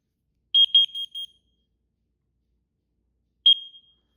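A combined smoke and carbon monoxide alarm under test chirps out a quick burst of four shrill beeps, falls silent, then gives one more beep, loud and close against total silence.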